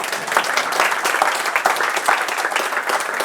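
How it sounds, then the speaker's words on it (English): Audience applause at a FuckUp Nights evening event in Oslo, a steady, fairly close crowd clapping throughout with a few sharper individual claps standing out, no talking. "I need more applause since I yesterday opened the webshop"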